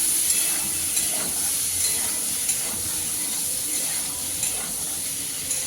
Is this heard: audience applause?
no